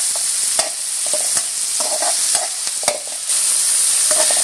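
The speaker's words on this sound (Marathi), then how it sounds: "कलर चेंज होईपर्यंत आपल्याला कांदा परतून घ्यायचा आहे." Chopped onion sautéing in a pan, a bright constant sizzle with repeated close spatula scrapes and taps at an uneven rhythm, loud and without speech.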